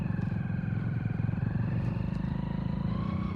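A motorcycle climbs a hill trail on a trek to a hilltop temple, its engine a close, steady, throbbing drone that runs unbroken from start to finish with no talk.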